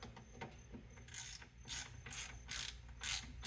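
A ratchet clicks in several short bursts as it snugs the front differential drain plug on a 2014 Polaris Sportsman 570, close and fairly quiet, with a steady low hum beneath.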